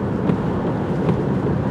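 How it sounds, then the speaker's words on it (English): Strong wind during Hurricane Nicole roars against the microphone while someone drives, a continuous low rumbling buffet with a few gusty swells and no voices. "So it is really windy right now."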